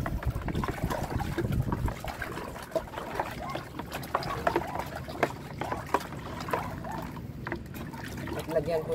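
Water is poured from a container over planted seedlings, a splashing, trickling flow in uneven bursts, heard close under a person talking.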